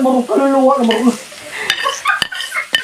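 Ginger, garlic and onion sautéing in a pan, with a short burst of sizzle followed by sharp utensil clinks and scrapes against the pan, close and fairly loud, with a brief voice at the start.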